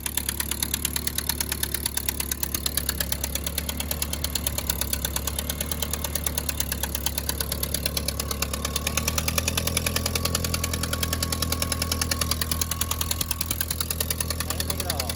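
Ford tractor engine, a Ford Jubilee or Ford 9N, idles steadily with a rough, knocking mid-pitched chug and vibration, dropping to a lower, heavier note partway through as a load such as the PTO comes on.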